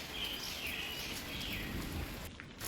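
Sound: heavy rain during Cyclone Remal

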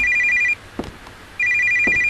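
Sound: telephone ringing in a horror video game

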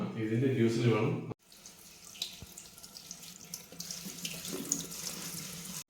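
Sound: water tap running, washing moringa leaves

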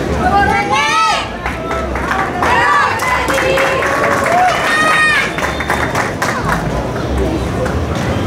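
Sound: crowd applauding and cheering at coronation

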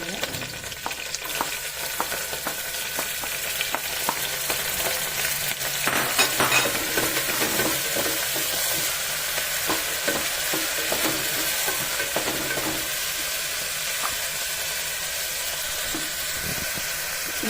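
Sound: frying ginger and chopped garlic in a pan

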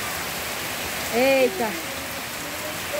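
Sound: heavy rain falling

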